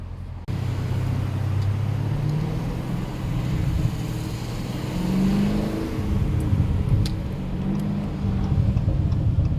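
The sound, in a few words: 2019 Dodge Challenger Scat Pack Widebody exhaust burbles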